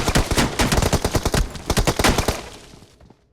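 Rapid bursts of automatic weapon fire in a video game crackle in dense, loud volleys for about two and a half seconds before tapering off, with no voices over them.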